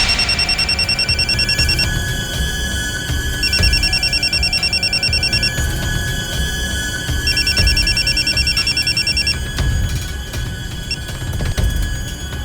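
A telephone rings in repeated electronic bursts, each about two seconds long with pauses between them, over low background noise from the room.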